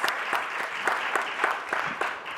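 Applause for the fourth finalist at an AI and sustainability keynote panel, a full, continuous round of clapping from the audience, even and moderately loud, with no talk over it.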